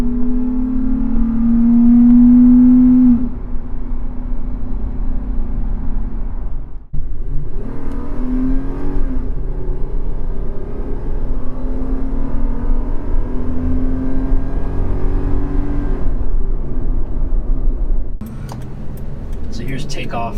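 A Toyota 4Runner engine fitted with an S&B cold air intake accelerates hard, its loud droning engine note and intake roar rising through the gears with shift breaks, heard from inside the cabin. Someone talks over it.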